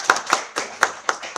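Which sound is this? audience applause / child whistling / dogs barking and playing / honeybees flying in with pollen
audience applause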